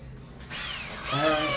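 A power drill starts up while a washing machine is being removed and moved from an old house, its whine building into a loud, close drilling sound that rises in pitch and load as it bites.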